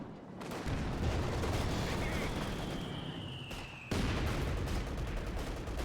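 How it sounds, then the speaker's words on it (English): Mortar bombardment and gunfire in Company of Heroes 2 form a continuous loud battle din of rumbling blasts and crackling shots, with a whistling incoming round, and a commentator talks over the noise throughout. "Good bombard here with the mortar."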